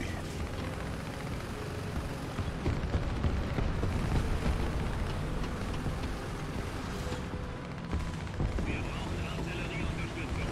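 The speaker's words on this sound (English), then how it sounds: "Oh, that guy was shooting at me." Tank gunfire in War Thunder ground battles: a dense, loud, continuous roar of rumbling blasts and engine noise with no clear pauses, sustained throughout.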